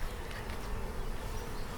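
Honeybees buzz steadily and close at an opened hive, a continuous droning hum from many insects with no talking.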